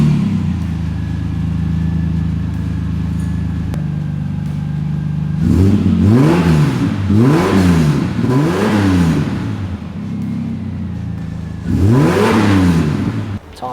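A Nissan GU Patrol with a 4.8 litre TB48 petrol engine, extractors and a 2.5 inch Legend X exhaust idles loudly, then revs hard four times in rising and falling sweeps, close and deep.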